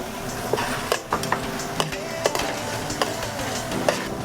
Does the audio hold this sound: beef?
yes